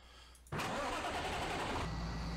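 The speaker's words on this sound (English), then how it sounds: "particular tractor is awful loud" A large Big Bud tractor engine in Farming Simulator 17 cranks and catches with a sudden loud burst, then settles into a heavy, steady idle.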